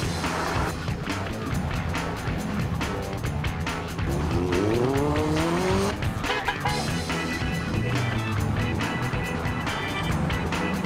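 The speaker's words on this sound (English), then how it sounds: "With the revs building as the cars queued to get out of the car park, Craig's earlier warning" Car engines rev and drone as a queue of cars pulls out of a car park at the start of a road rally, steady and fairly loud, with a rising engine whine in the middle and faint background talk.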